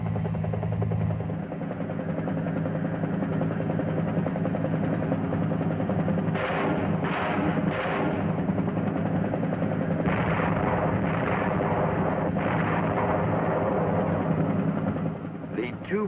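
A military helicopter armed with a minigun flies with a steady, loud droning rotor and engine hum throughout, while someone narrates over it.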